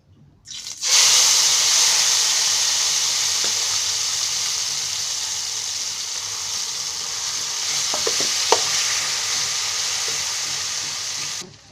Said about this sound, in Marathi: आता मी याच्यातला थोडा तयार झालेला मसाला आहे ना, तो त्या कढईमध्ये टाकते.